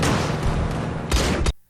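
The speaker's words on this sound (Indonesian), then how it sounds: "Terjadilah tembak-tembakan di antara mereka." Gunfire in a shootout scene from the film Cold Pursuit: a dense, continuous fusillade of overlapping shots and booms that swells near the end, then cuts off abruptly into silence.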